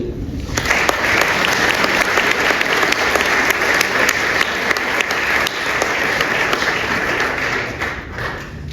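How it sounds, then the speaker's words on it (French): An audience at an awards event applauds, a dense and loud round of clapping that holds steady for several seconds before fading slightly at the end. "on peut l'applaudir"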